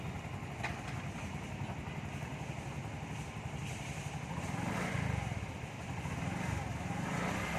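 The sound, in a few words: Bajaj RE three-wheeler reversing with converted clutch and gas pedal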